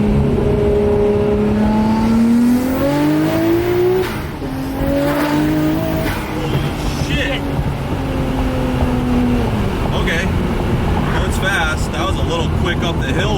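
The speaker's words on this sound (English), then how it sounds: "I'm gonna do a little second up the hill," Nissan Skyline R34 GTR pulling hard in second gear up a hill, engine note climbing steadily through several rising sweeps from inside the cabin, loud and continuous with brief dips between pulls.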